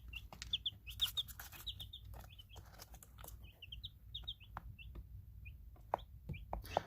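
Nine-day-old baby chicks peep faintly and often in a tub, with soft rustles from flapping wings under a quiet background hum.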